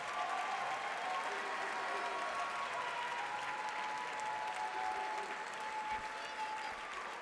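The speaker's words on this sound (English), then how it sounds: "Can we please give a big warm hand clap to all of our award and scholarship winners" Steady applause from a large audience at a high school graduation ceremony for award and scholarship winners fills the room, a continuous wash of clapping hands that holds evenly throughout.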